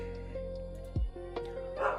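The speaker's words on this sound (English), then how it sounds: "My dog is barking." A dog barks in short, muffled, somewhat distant woofs over a steady low electronic hum, with one louder bark standing out in the middle.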